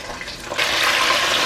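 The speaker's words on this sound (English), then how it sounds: "we're going to pop them back in the oil and fry the wings again for 3 minutes" Chicken wings dropped back into hot oil for a second fry, the sizzle swelling abruptly into a loud, dense bubbling hiss that continues steadily, close up with no talking.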